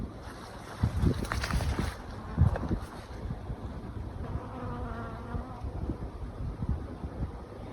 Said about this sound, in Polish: i bardziej wchodzę, to więcej pszczółek. Oblatują ładnie.